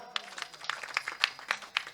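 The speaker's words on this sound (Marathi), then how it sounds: "त्यांच्यासाठी एकदा टाळी वाजवून स्वागत करा." Audience applause welcoming a child kirtan performer at a devotional kirtan gathering, a soft crowd patter of scattered claps with a few sharper hand strikes standing out over the murmur.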